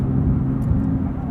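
Porsche 911 GT3 with a manual gearbox driving, a steady loud low engine and road roar filling the cabin without pause.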